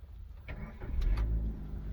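A Maruti Suzuki Ignis with a 1.2-litre VVT petrol engine starts up close by: a short starter crank catches into a firm idle rumble within about two seconds.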